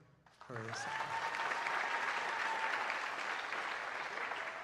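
Sustained audience applause at a graduation ceremony, starting abruptly after a short lead-in and holding steady and loud as a dense wash of many hands clapping, with a faint tone running underneath.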